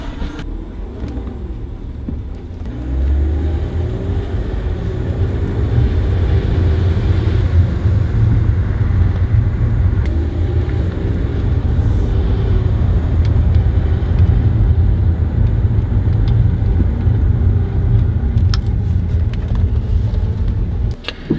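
Continuous engine drone and road rumble from inside a moving BMW 328i with an N52 engine, rising slightly as it gets going, steady and loud with no talking.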